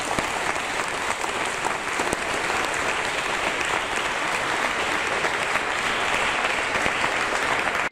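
An audience claps through a sustained, dense round of applause at a talk, steady and fairly loud from start to finish with no voices over it.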